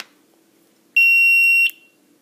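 A simple 9-volt battery powered electronic buzzer wired through a switch gives one steady, shrill tone lasting under a second, close and loud against near silence.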